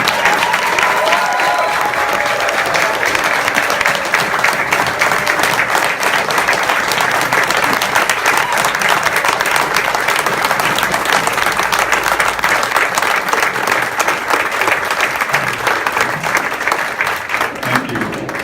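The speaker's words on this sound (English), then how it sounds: "We'd like to give just one more round of applause for all of our honorees." Sustained applause from a large audience at an awards ceremony, dense steady clapping filling the whole stretch at an even, loud level.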